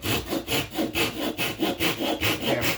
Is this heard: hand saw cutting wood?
yes